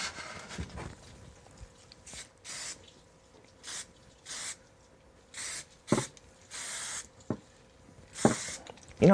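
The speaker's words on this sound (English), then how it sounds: "It looks like it's spraying a normal, stripe, but it feels like it's spraying at an odd angle when I'm spraying it." TerranScapes acrylic terrain spray paint can firing roughly a dozen short, sharp hissing bursts in an irregular rhythm, close and fairly loud, with quiet gaps and faint handling noises between sprays.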